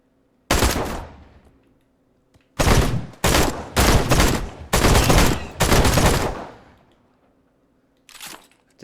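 Assault rifle gunfire in a Jurassic Park video game: several loud bursts of rapid automatic shots, separated by short pauses, with a final brief burst after a longer gap.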